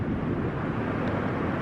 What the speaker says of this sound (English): so a lot of planes going overhead.